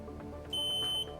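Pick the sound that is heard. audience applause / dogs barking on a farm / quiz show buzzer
quiz show buzzer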